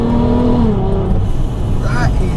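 The engine of a supercharged 500bhp Golf R32 rises and revs loudly from inside the cabin, a droning pitch that climbs and falls, with someone talking over it.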